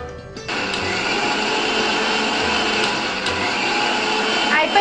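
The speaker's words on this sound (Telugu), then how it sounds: "టొమాటో ప్యూరీని మిక్సీలో గ్రైండ్ చేస్తున్నారు" A kitchen mixer grinder blends tomatoes into puree with a loud, steady motor whir that runs continuously from start to finish at close range.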